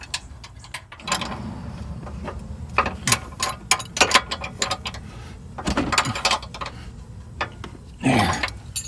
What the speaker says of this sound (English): I'll probably just double wrench it on this because it's so tight in here.